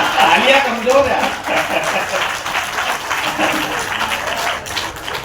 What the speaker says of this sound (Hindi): तालियां कमजोर है।